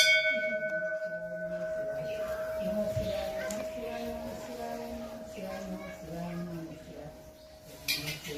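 Temple puja bell ringing steadily in the background with a sustained metallic hum, while voices and household sounds murmur over it at moderate volume, a small clatter near the end.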